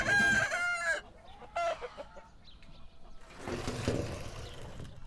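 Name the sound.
chickens clucking and rooster crowing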